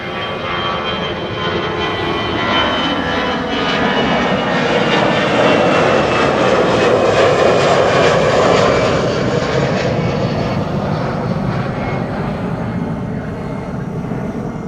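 An EasyJet airliner passing at Amsterdam Schiphol, a powerful jet-engine roar that rises, peaks loud and close mid-pass, then eases off gradually, with no voices over it.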